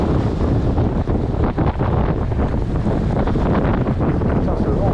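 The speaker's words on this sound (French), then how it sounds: "ce vent, c'est dingue" Strong wind on the sea shore, during shore fishing with a vibrating blade lure, buffets the microphone in a loud, continuous roar, with gusty low rumble and a hint of surf underneath throughout.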